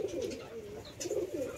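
Soft, repeated cooing of a pet dove or pigeon in a home bird colony, low rolling calls in two phrases with a short pause between, close and fairly quiet.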